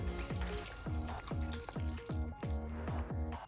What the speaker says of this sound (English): Add the vegetable broth